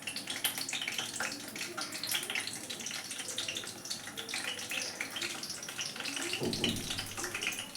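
Wheat flour khasta biscuits slip one at a time into lightly heated white oil in a karai, raising a steady, dense hiss of frying that runs the whole stretch with a brief low bump near the end.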